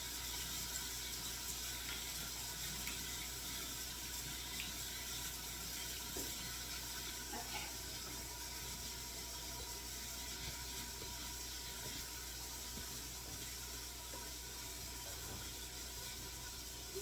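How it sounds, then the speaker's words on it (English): A kitchen sink tap runs steadily while hands are washed, making a continuous, even rush of water that stays at the same moderate level throughout, with faint clicks and knocks underneath. "I'm going to wash my hands while that's starting to cook"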